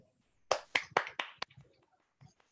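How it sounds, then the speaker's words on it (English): A handful of scattered claps from a group unmuted on a video call after a reading session, several quick strikes that thin out into a few faint trailing claps, fairly quiet overall. "give yourselves a round of applause"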